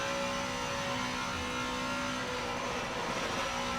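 A race car engine in a sim racing game holds a high, strained drone near redline, loud and continuous throughout with no speech over it.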